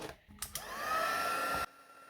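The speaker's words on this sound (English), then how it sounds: "I'm just going to get my embossing tool again." Heat embossing tool blowing hot air onto a handmade thank-you card: a couple of soft clicks, then a steady rising whine and whoosh for about a second and a half before it cuts off abruptly.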